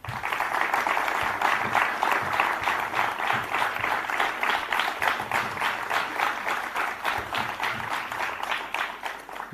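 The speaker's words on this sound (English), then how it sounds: "I request everyone to once again welcome him with a huge round of applause." A large crowd at a summit applauds continuously, a dense sustained clatter of many hands that stays strong throughout.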